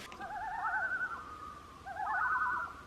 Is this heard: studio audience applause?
no